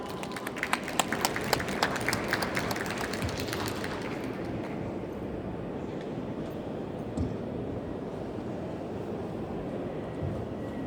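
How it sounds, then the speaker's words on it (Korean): An audience applauds at a lecture on industrial safety law; the crackling clapping is strongest at first, then thins into a steady crowd murmur. "큰 박수 부탁드립니다."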